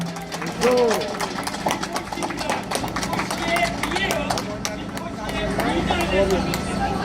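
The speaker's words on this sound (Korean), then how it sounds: "박수 한번 쳐주시기 바랍니다" A crowd at an outdoor Korean presidential campaign rally claps, and the sharp hand claps mix with crowd hubbub and voices. The clapping is moderately loud and uneven and continues alongside the general murmur.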